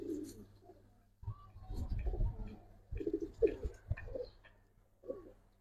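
Pet pigeons, a breeding pair kept by a hobbyist, coo in soft low bursts close by, several throaty rolling calls with short pauses between them and no talk.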